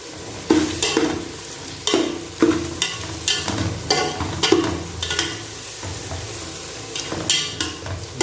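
Mutton with spices being stirred and fried in a pan for a capsicum mutton dish: repeated loud scraping strokes at a steady rhythm over a continuous close sizzle, with no talking.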